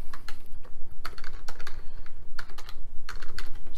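Someone types a document title on a computer keyboard while working in a shared drive: quick, close bursts of crisp key clicks with brief pauses between them, and no speech.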